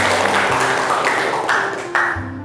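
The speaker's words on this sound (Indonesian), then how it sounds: "Beri tepuk tangan untuk Ananda" A short burst of clapping from students in a classroom, several people applauding together for a classmate, close and fairly loud, with a few sharp claps standing out.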